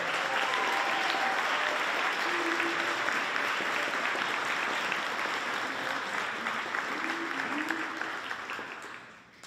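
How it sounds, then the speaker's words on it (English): Audience applause at a high school spring band concert, a sustained, full wash of clapping from a large crowd that stays steady for several seconds and then fades out at the end. "Let's give them one more round of applause."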